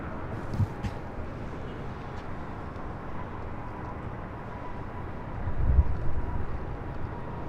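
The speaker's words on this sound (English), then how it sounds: "That is Virgin Atlantic Flight 7 arriving on the south side, coming in from London Heathrow on that A350-1000." Virgin Atlantic Airbus A350-1000 landing at LAX on the south side, arriving from London Heathrow; a steady broadband jet roar at moderate distance, swelling slightly louder toward the end.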